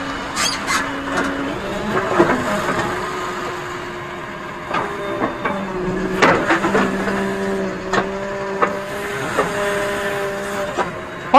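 A JCB 3DX Eco Xpert backhoe loader's diesel engine idles steadily at around 1100 rpm outdoors during a neem tree transplant, a close, even hum with intermittent clanks and knocks layered on top.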